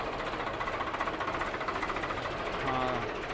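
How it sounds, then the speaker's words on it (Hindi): A tractor fitted with a dozer blade and a rear plough runs during field levelling at dusk, its engine giving a steady, fast rhythmic chugging throughout, moderately close, with a brief tonal rise near the end. "सामने की तरफ से जो ट्रैक्टर आ रहा है"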